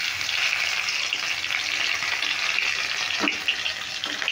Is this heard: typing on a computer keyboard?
no